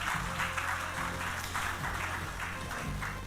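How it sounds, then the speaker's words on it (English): Applause from a plenary session audience for a conference panel, a steady wash of clapping with a low rhythmic hum underneath. "Give them one more round of applause, ladies and gentlemen."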